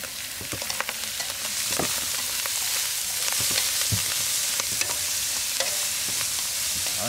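Food stir-fries steadily in a hot pan, sizzling while a utensil scrapes and stirs, with irregular clinks and scrapes over the continuous frying hiss.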